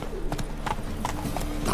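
Roach, the horse in The Witcher 3, clip-clops along in quick hoof beats that sound close by, with faint game ambience underneath and no clear neigh.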